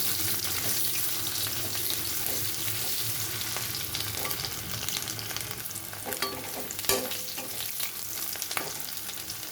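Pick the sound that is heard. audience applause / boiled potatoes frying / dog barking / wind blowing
boiled potatoes frying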